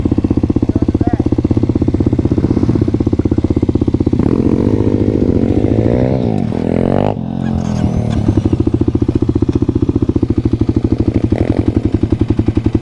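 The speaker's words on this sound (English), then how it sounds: "an SSR 170 pit bike that he's saying kicks ass" SSR 170 pit bike riding nearby, its small single-cylinder engine chugging loudly and steadily, with a brief rev and pitch rise midway before settling back into a rapid, even putter; a voice speaks faintly underneath.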